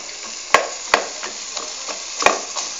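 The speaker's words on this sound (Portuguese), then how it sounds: "Vamos começar a fritar o quiabo pra gente tirar essa baba que fica nele." Okra fries in a pan for farofa de quiabo, a steady, quiet sizzle broken by a few sharp clicks and scrapes of a stirring utensil.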